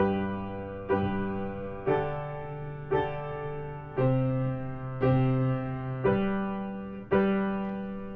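A cathedral choir's bass, alto and soprano voices sing a series of sustained basic chords, about one per second, each starting fresh, in a steady unaccompanied progression.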